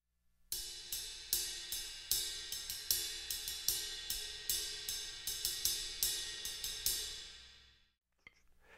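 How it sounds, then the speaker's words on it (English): The tip of a drumstick taps the flat of a ride cymbal in a steady swing-style pattern of light, shimmering strokes that build a continuous wash, then stop and let the ring fade, played alone and up close. "And then you have the tip of the stick and the flat of the cymbal."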